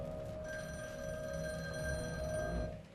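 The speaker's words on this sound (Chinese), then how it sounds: "突然间在很远的地方传来电话的声音" A telephone bell rings in a steady, bright electronic trill that holds for nearly three seconds and then cuts off, heard alone in a quiet space.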